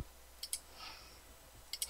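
A computer mouse gives two quick pairs of quiet double clicks, about a second apart, during 3D modelling work in Rhino, with a faint background hum between them.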